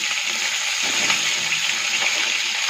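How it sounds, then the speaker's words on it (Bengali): Running water pours steadily over cauliflower pieces being washed after soaking in salt water, a continuous close hiss with no speech. "এগুলো আমি নুন জলে চুবিয়ে রেখেছিলাম, তারপরে ভালো করে ধুয়ে নিচ্ছি।"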